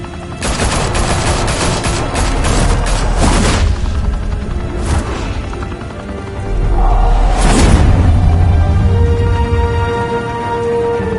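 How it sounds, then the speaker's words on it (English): Gunfire erupts in a Batman video game set in Gotham, rapid automatic bursts and loud booming shots that rattle in dense volleys, ease briefly, then return heavy with a rumbling blast, with no talk over them. "Open fire!"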